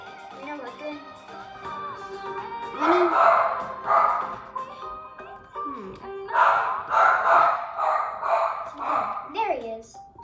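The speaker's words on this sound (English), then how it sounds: "My dog is so loud." Loud indoor dog barking in irregular bursts, some yips and whimpers between, with someone talking over and around it against game music in the background.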